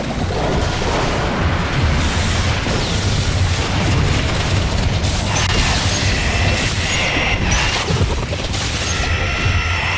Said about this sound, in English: just destroying your turret so my own men don't die constantly